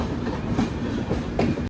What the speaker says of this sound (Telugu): సికింద్రాబాద్ రైల్వే స్టేషన్లోకి అయితే ట్రైన్ ఎంటర్ అయిపోయింది.